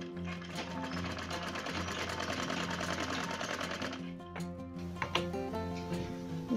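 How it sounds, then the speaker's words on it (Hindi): Sewing machine running steadily as elastic is stitched onto cigarette pants, a continuous close whir that pauses briefly near the end before a few short restarts. "इसमें हम डबल सिलाई लगाते हैं।"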